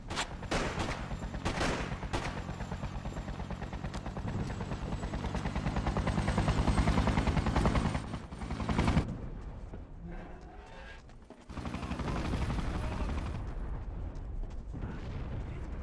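Sustained gunfire at soldiers in the game Freedom Fighters, dense bursts and rumbling blasts layered over a continuous roar that drops away briefly before resuming.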